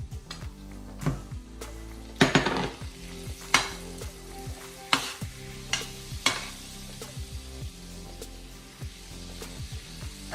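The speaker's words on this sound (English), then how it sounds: "Now that our garlic is browned, we're going to add in the rest of the butter." Butter melts into browned garlic in a pan for homemade fettuccine Alfredo sauce, giving a low, steady sizzle. A utensil taps and scrapes the pan in sharp, irregular strokes.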